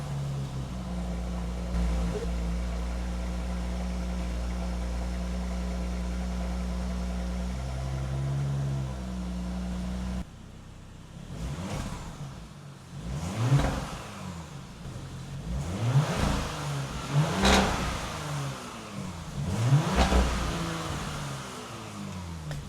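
A Porsche Cayenne with a valved sports exhaust idles steadily, then after a short break is revved several times, loud rising and falling engine sweeps close by.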